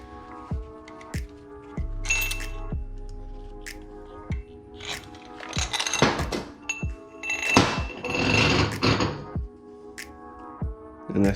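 A ratchet works a bolt loose on the differential of a Nissan 350Z, giving irregular clicks, knocks and scraping bursts of metal work, close and moderately loud, with a low rumble early on and no talk.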